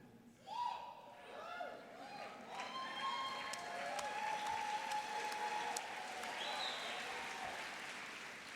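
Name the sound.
graduation crowd cheering and applauding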